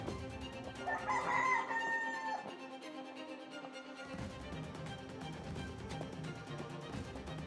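A rooster crows once, loud and fairly close, amid outdoor background noise on the cobblestone streets of Saint Pierre, Martinique; the crow fades and a steady ambient hum continues.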